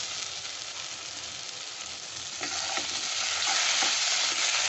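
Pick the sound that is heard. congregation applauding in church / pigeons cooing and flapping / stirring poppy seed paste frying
stirring poppy seed paste frying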